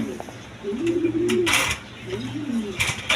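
Lotan and Bombay pigeons coo close by in two rolling, throaty bursts, with brief wing flutters and soft clicks in a busy market setting.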